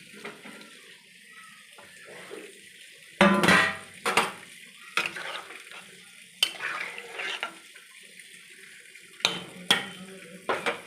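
Fried paneer pieces go into a simmering paneer curry and are stirred in a pan, giving intermittent scraping clatters and bursts over a low bubbling background.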